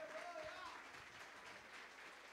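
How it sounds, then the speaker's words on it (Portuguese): A church congregation claps and applauds together, a soft, fairly distant wash of hand claps with a voice briefly audible over it. "Agora aplauda ao Senhor Jesus com alegria."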